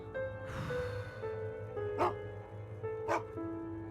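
A dog gives a few faint, distant barks and yips over a steady low hum and background tones, spaced out across a few seconds.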